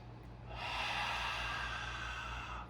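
A long, steady ujjayi yoga breath drawn through a constricted throat, a soft hissing, ocean-like rush that swells and holds for a couple of seconds.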